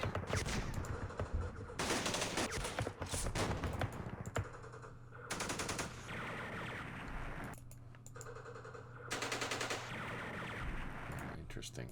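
Video-game machine-gun fire from the Vietnam War title Campaign Series Vietnam, several loud rattling bursts separated by short pauses, with a voice talking faintly underneath.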